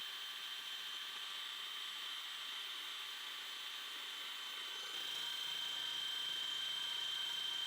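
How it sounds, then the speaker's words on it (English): An electric drill fitted with a wire brush bit whirs steadily with a high, constant whine while cleaning cast iron cookware, growing slightly louder partway through, with no talking. "Drill with a wire bit. That gets into the corners a bit better."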